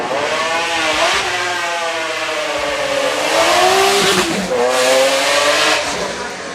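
A McLaren F1 engine sounds loud and close, roaring steadily with its pitch rising and falling as the revs change, and no voices over it.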